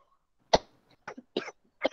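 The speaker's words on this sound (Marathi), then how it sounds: "सॉरी खूपच खोकला लागलं" A run of four or five short, sharp coughs, close and loud, spaced unevenly with quiet between them.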